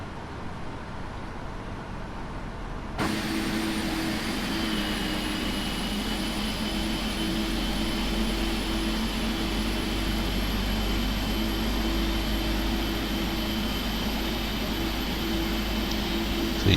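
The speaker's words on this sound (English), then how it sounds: "Start the left engine." A PMDG 777-300ER's left jet engine starts up in the FSX flight simulator: after three seconds of low hum, a steady, loud turbine roar kicks in, with a thin whine slowly rising in pitch over it and no talking.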